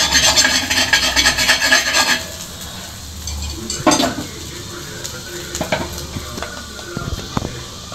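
A knife saws through a toasted cheese omelette sandwich, cutting it in two with close, rasping scrapes for about two seconds. Scattered light taps and clinks against the board or plate follow.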